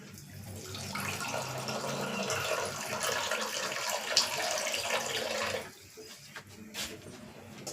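Water poured into an oil pan for rinsing gives a steady splashing rush for several seconds, then cuts off, leaving a few small sloshes and drips.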